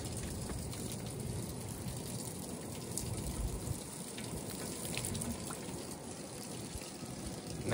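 Steady rain falling on an outdoor HVAC unit at a government building, a dense continuous hiss and patter with no pauses, close and even throughout.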